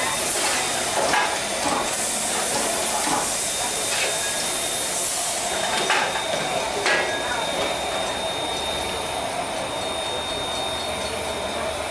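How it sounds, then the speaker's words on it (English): Soo Line 1003 steam locomotive standing with steam up, giving off a steady, continuous broadband hiss throughout, with a few brief bursts and faint background voices nearby. "Keeping up the steam."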